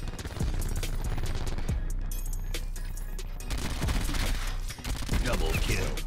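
Rapid SMG gunfire from dual-wielded weapons in Call of Duty, dense bursts of shots over game sound effects, continuous and fairly loud.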